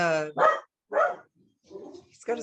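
A dog barks a few times close by, with short whiny yips between the barks and a person speaking in the background.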